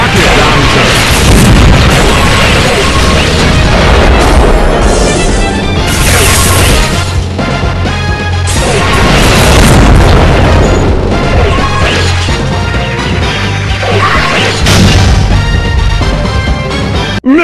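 Rocket launcher explosions in the video game Metal Slug Commander: dense, loud booms and crashes pile on one another without pause over game music and effects, with a brief drop at the end.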